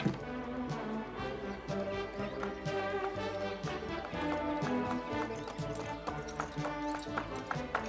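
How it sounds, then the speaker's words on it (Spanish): Rhythmic hoof clip-clops of a cartoon horse over a musical backing, steady and continuous throughout. "Es un caballo muy raro."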